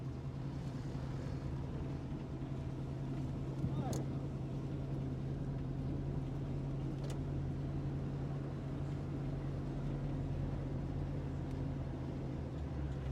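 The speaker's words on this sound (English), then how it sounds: "we're going down the street in our brand new rig" A lifted 1969 Camaro 4x4, running again after seven years of sitting, gives off a low, constant engine and road drone as it drives down a street, heard from inside at a fairly even level, with faint voices in places.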